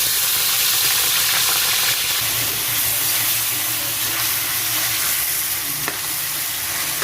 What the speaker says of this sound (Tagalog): Fry na natin guys yung ating chicken.